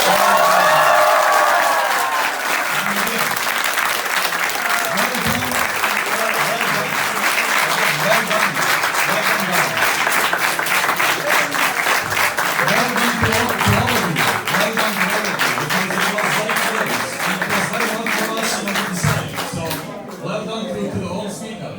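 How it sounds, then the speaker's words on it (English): An audience at a university debate applauds a speaker with loud, steady clapping that lasts almost the whole time, while voices and murmurs run underneath and the applause thins out near the end. "Clap for Mr. Muhammad."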